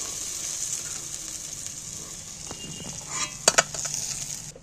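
Fish frying in hot oil in a pan: a steady, close hissing sizzle throughout, with a few sharp spatters and utensil clinks near the end.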